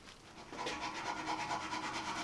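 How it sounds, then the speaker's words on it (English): Metal file rubbing powder coat off the frame of a 1978 Honda cafe scrambler, a steady rhythmic rasping of repeated strokes, close and fairly quiet. "we'll just use a file and get rid of that gently so we don't damage any of the other powder coat around it"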